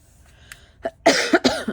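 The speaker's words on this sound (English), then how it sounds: "Telling you that cough is what's keeping me up at night." A person coughs indoors: a couple of small throat sounds, then two or three harsh, loud coughs in quick succession, close to the microphone.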